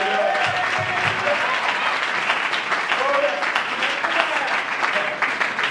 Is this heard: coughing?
no